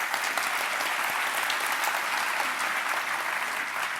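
A seated audience at a lightning talk session applauds continuously and fairly loudly for the whole stretch, a dense, even patter of many hands with no talking over it.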